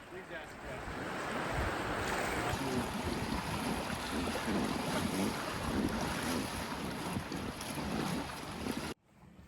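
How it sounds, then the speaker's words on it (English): A scenic float-trip boat drifts along the Snake River in Grand Teton National Park, with soft water sounds and heavy, rumbling wind buffeting the microphone before cutting off abruptly. "Our scenic float trip glided along a 10-mile stretch of the Snake River located within Grand Teton National Park."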